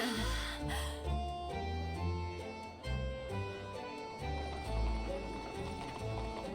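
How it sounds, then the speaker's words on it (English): Horse hooves clip-clop in a Victorian London street scene from The Great Ace Attorney Chronicles, a steady trotting rhythm under a thick bed of game music. "Horses."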